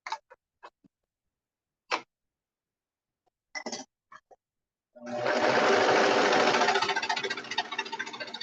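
A sewing machine stitching a color block hoodie starts after several scattered soft clicks and taps, then runs as a loud, close, continuous mechanical whirr for about three and a half seconds, easing slightly toward the end.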